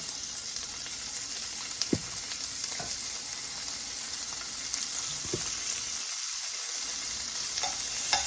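Steady sizzling of steak strips searing in a hot skillet, a continuous crackling hiss with a few soft clinks, no voices.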